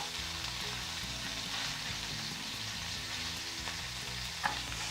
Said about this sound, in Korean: 약한 불로 소세지를 잘 익혀주세요.